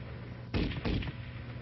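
An M73 7.62mm tank machine gun fires a short burst of two or three loud, sharp reports, heard alone over a steady low background hum.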